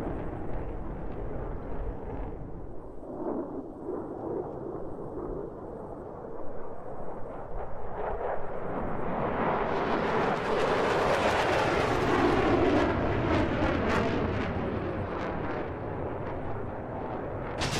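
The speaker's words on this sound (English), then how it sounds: "Again, a missile launch on egress." A missile launch in the DCS combat flight simulator, heard as a loud rising roar and rumble that swells midway and sustains for several seconds over steady engine noise.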